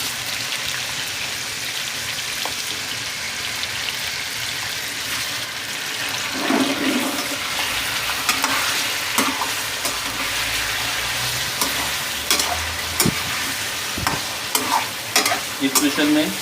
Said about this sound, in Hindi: ऑयल गर्म हो चुका है, इसके अंदर चिकन डालें।